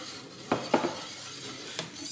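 A spoon stirs baking soda into homemade Marseille soap laundry detergent, giving a few scattered scraping knocks against the container over a quiet background.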